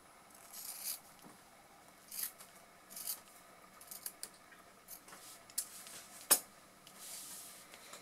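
Scissors snip away surplus fabric after straight-stitch sewing of a quilted basket bag, making faint, intermittent crisp cuts and light rustles, close by and quiet.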